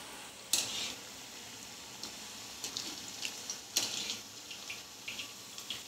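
Potato smileys deep-frying in oil over low heat, a steady soft hiss of bubbling with occasional sharper crackles and spatters, fairly quiet and without talk.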